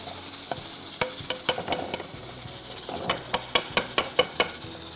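Butter and brown sugar stirred in a pan for caramel, with a soft sizzle under sharp, evenly spaced utensil clinks against the pan, close by, in two bursts of rhythmic stirring.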